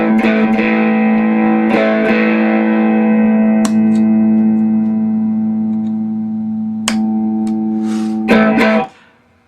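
Sustained electric guitar chord driven through a Donner/Mooer mini pedal board with gain, loud and distorted, ringing steadily for several seconds with a few brief pick clicks and a final strum before it cuts off.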